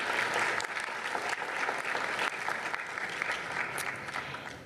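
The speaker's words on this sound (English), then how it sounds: "Let's give her a round of applause." Audience applause fills a city commission meeting chamber, a steady, dense clapping that holds loud for the full few seconds and tapers slightly at the end, with no talk over it.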